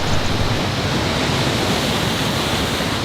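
Poudre Falls on the Cache la Poudre River gives a steady, dense rush of falling water, broadband and unbroken, heard up close with no voices.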